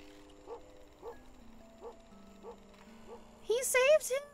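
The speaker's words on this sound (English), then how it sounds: "What sound do you make? Yes! It barks!" A small dog-like companion creature in a duck video game DLC gives a few soft, yippy bow-wow barks at a steady rhythm, followed by a louder burst of high chirpy cries near the end.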